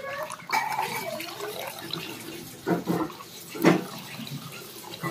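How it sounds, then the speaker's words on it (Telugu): Milk poured into ragi malt, a faint liquid splash and trickle with a few short gurgling pours, quiet and close. "రాగి జావలో పాలు పోసుకోండి"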